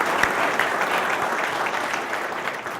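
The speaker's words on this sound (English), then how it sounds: "please give them a nice round of applause" An audience at a corporate event gives a warm round of applause, dense steady clapping from a sizeable crowd that holds at even loudness before easing slightly.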